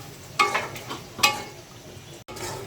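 Bean seeds stir-frying in a pan for a rohu fish dish, a soft steady sizzle with two brief scraping stirs, close and fairly quiet.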